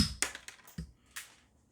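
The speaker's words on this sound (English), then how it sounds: "the sound of that cutting just zip ties, you know, that tells you how dull it is" Dull Japanese cutting pliers snip through plastic zip ties, giving three or four short, sharp, close-up clicks and crunches spaced apart in quiet surroundings.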